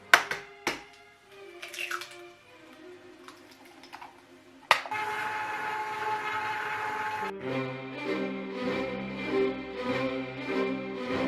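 An electric mixer whirs on low through pumpkin cheesecake batter with eggs, a steady motor hum with rhythmic pulsing after some earlier clicks and taps, close and fairly loud.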